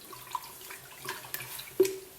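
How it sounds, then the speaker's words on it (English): Rough scourer gently swirling a shallow pool of water around the bottom of a water distiller, giving soft sloshing and scraping swishes with a few sharper clinks, close and fairly quiet. "agitate the solution down in the bottom of the water distiller"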